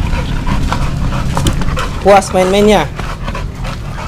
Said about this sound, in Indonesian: dan hari ini dia puas, puas main-mainnya sampai ngos-ngosan kali